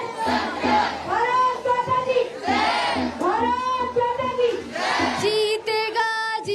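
Students rallying for the Chandrayaan-3 moon landing chant and cheer loudly together in rhythmic waves of massed voices, close and sustained throughout.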